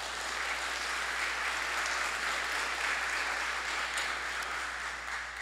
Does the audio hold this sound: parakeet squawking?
no